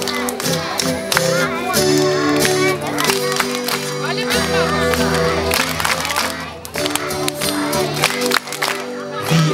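At a kindergarten summer party, a group claps along in rhythm to a lively song, the steady claps mixed with singing, music and children's voices.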